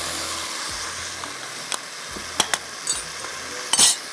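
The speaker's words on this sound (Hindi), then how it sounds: "अब आपने इसको इस तरह से थोड़ा सा भून लेना है मसाले के साथ।" Tomatoes and spices fry together in a pan for a daal pulao, giving a soft continuous sizzle close by, broken by several sharp clinks of a utensil against the pan as the mixture is stirred.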